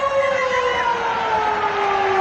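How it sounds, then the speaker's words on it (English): Half-time siren at Penrith Stadium during a 1991 rugby league match between Penrith and Western Suburbs: one long, steady wailing tone that drifts slightly lower, sounding loud and continuous over the crowd noise. "There's the siren."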